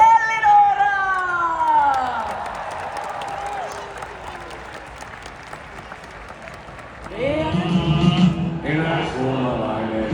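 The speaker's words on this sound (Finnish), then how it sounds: "annetaan vielä isot aplodit Ellinora!" Crowd applause with scattered cheers for a performer at a gala celebration, steady clapping beneath tonal singing or music that fades mid-clip, then a loud swell of sound with voices near the end.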